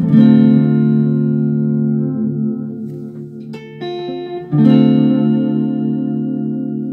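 Sustained guitar notes through an analogue modulated delay pedal ring out with a wavering, echoing repeat effect, fading and then struck again after a brief pause.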